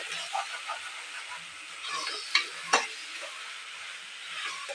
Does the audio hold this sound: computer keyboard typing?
no